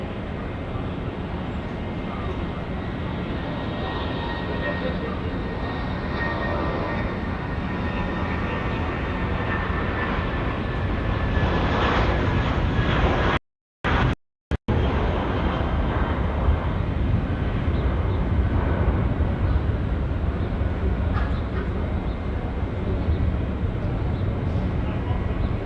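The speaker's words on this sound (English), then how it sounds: "we've got a Jetstar now about to take off here, runway 23" Jetstar jet airliner taking off from runway 23 at Auckland Airport, a steady broad roar of engines that swells and holds with only brief dropouts, heard from outside at some distance.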